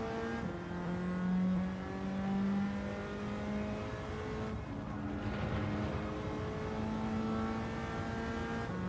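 Nissan GT-R Nismo engine in a racing video game, revving steadily with sustained harmonic tones that dip briefly midway and then climb again, loud and continuous with no voices.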